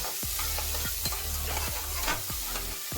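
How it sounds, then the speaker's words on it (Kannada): Onions frying in oil in a pan, stirred around with a utensil; a constant crackling sizzle broken by several scraping stirs, close and loud. "ಆನಿಯನ್ ಹಾಕ್ಕೊಂಡು ಚೆನ್ನಾಗಿ ಫ್ರೈ ಮಾಡಬೇಕು"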